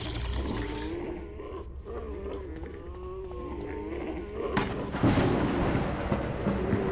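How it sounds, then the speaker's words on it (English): Thunder from lightning in a zoo horror video game, a deep rumbling roll that swells and builds into a louder crack and rumble near the end, mixed with eerie tonal ambience. "so that was just lightning"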